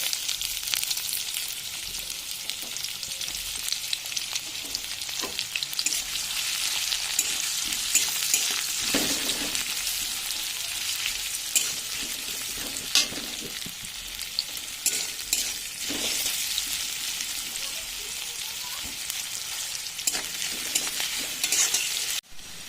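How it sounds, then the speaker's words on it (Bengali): Onions fry in mustard oil with cumin seeds, a steady bright sizzle running throughout while a spatula scrapes and stirs the pan in intermittent pushes, close and alone with no voices. "এবার দিয়ে দিচ্ছি পেঁয়াজ"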